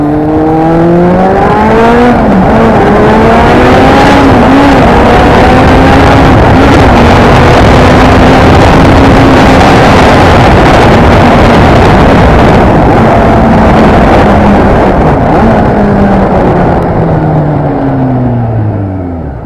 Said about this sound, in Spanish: os voy a enseñar cómo funciona de una forma un poco más fluida el cambio de la motocicleta